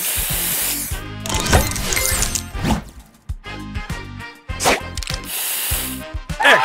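A spray booster effect in the Match Masters mobile puzzle game sounds as repeated hissing spray bursts, bright and sharp, several short blasts interspersed with chimes and game effects at a lively pace.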